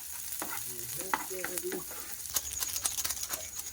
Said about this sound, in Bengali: এবার দিয়ে দেবো পেঁয়াজ কুচি, লঙ্কা কুচি। সব বাদামি কালার হয়ে আসা অব্দি ভেজে নেব।